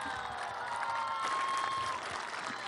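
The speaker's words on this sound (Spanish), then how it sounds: "Vamos a darle un fuerte aplauso al presidente de la República" Applause from an audience for Mexico's president at a public event in Yucatán, a dense, even wash of clapping from many hands with crowd noise mixed in, briefly sustained.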